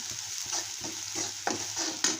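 Homemade black masala with onion, garlic and salt roasting in a pan for masala Maggi, giving a steady close sizzle with a few sharp scraping stirs over about two seconds.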